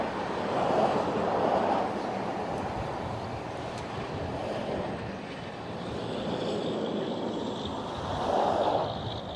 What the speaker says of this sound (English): The train passes Steins Mountain.